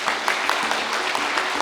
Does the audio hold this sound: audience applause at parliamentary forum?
yes